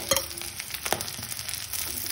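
Fried potato, cubed fried brinjal and a roasted spice mix are stirred together in a pan for a boal fish dish, giving a quiet low sizzle broken by a few soft scraping strokes.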